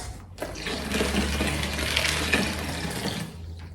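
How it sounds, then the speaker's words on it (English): Warm water pours steadily into a pot of black-eyed beans for a Namibian bean sauce, a continuous close splashing rush lasting several seconds with no talk. "and then just add a little bit of warm water, just so that we have that nice balance"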